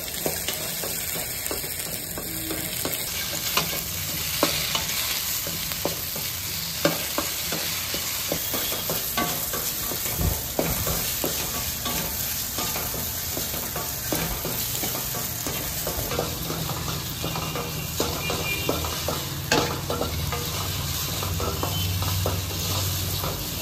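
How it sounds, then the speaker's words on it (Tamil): Okra (ladies' finger) fried hard in a pan with a little oil added, a continuous close sizzle with frequent scraping and stirring clatter from a spoon, steady over a long stretch. "வெண்டைக்காவை நல்லா வறுத்துக்கணும்."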